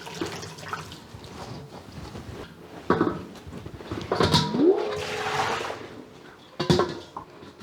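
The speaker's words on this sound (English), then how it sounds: "I'm going to rinse the mustard green with cold water" Cold tap water running and splashing over mustard greens being rinsed in a bowl, with intermittent gushes and drips, close by and moderately loud, no talking.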